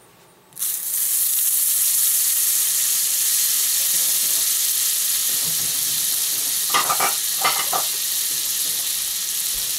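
Butter hits a hot frying pan for an omelet and bursts into a loud, steady sizzle that holds throughout, with a few soft scraping stirs partway through.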